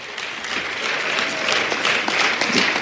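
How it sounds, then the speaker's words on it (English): An audience at an ANC political address gives a short burst of steady, dense applause, close and continuous from start to finish with no talking over it. "Let's give another round of applause."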